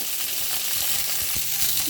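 Pieces of pointed gourd sizzle steadily in hot oil, a dense close hiss with soft bubbling and faint stirring sounds.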